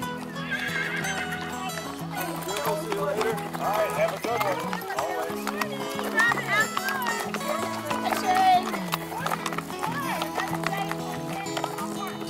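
Horses at the start of the Fort Stanton endurance ride, with steady hoof clatter, occasional whinnies and a busy crowd murmuring close by as people talk throughout.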